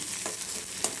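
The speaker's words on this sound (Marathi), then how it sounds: "कांदा थोडा परतत आला त्याच्यामध्ये" Onion sautéing in a pan for a spicy roasted-eggplant bharit sizzles steadily up close, with a couple of brief stirring scrapes on top.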